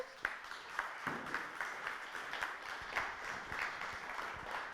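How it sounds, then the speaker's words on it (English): Applause from a conference audience fills the room as a steady wash of many hands clapping, close and fairly loud, with no voices over it. "Please give her a round of applause."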